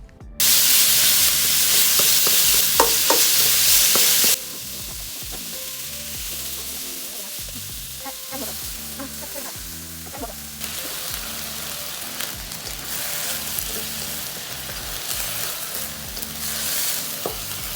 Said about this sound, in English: Remember to leave some of the oil and garlic in your pan because we are adding minced pork next.